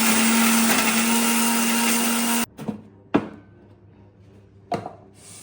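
A blender grinds spicy chili paste for curry, roaring loud and steady for about two and a half seconds before it cuts off, followed by a few sharp knocks and clatters.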